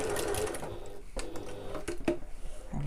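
Brief, close whirring of a sewing machine stitching and back stitching a backpack seam, stopping and starting in short bursts with small mechanical clicks, no voices.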